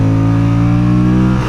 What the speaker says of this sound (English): Accelerating hard up this hill. Yeah, the engine wakes up nicely.